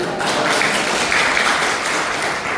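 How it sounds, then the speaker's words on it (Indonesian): An audience at a Christian church service in Solo claps together in a steady, dense wash of applause that holds at an even level for the whole stretch, with no voices on top. "tepuk tangan untuk Pak Adi"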